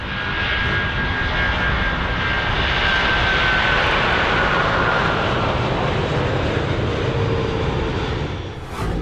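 A Mahan Air Airbus A340 passenger jet taking off, its engines producing a loud, sustained roar that holds steady for several seconds before easing slightly at the end, with no voices.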